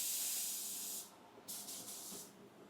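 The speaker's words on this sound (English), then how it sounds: "So now we're gonna go ahead and spray our alcohol. Lightly just mist it right over." Spray bottle misting alcohol onto a BMW F80 carbon fibre roof: a soft hiss for about a second, then a few quick, faint spritzes close by.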